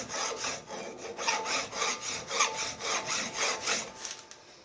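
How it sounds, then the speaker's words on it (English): A hand file rasps across the face of a bronze valve in about ten slow, even back-and-forth strokes, close and alone. "Just slowly and gently file away until that face is level with the"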